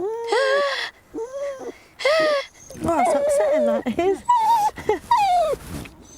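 An unconfident dog whimpers in high, wavering whines, several short cries rising and falling close by, mixed with people talking over them.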